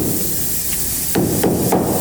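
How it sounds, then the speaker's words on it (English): Heavy hammer blows strike the rubber bushings on an AE86 Toyota Corolla during a build; after a steady background hum, three sharp, loud impacts land at roughly even intervals near the end. "Jay's baiting on the fucking rubbers with a hammer"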